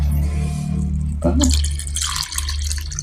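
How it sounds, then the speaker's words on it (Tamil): Water poured from a tap or vessel into a rasam pot in a home kitchen, a steady close splashing stream under low background hum, rising then settling into trickling. "தண்ணி அளவாக ஊற்றியாச்சு."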